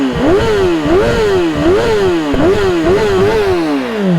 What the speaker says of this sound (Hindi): सबके एग्जॉस्ट सुनाते हैं। सबसे पहले BMW,